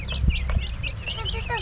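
A neighbor's chicken clucks repeatedly near a backyard coop under construction, its calls steady and close against rustling background noise, with no speech.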